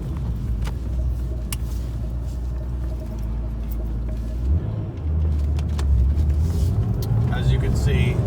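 A 1998 Porsche 911 993 Turbo coupe, S specification, idles as it warms up, a steady low engine rumble that deepens and grows slightly louder midway, with a voice speaking over it.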